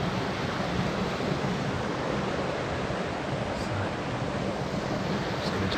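A mountain river rushes in a steady, full roar of flowing water, close and constant throughout with no pauses.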